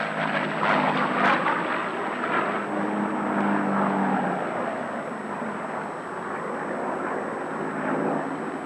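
A mass-produced fighter plane in desert markings, with shark's teeth painted on the nose cowling, flies past at an airshow; its engine gives a steady, fairly loud drone throughout, with no talking.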